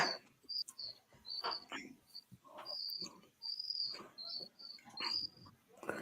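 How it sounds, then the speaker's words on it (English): Small birds chirp outdoors in repeated faint, high, short calls, scattered over a quiet background with a few soft rustling noises. "those birds are just making a racket, aren't they?"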